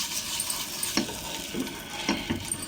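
Onion and oil rubbed across a hot pan before making semolina dosa, giving a faint, steady sizzle with a few soft scraping strokes near the pan.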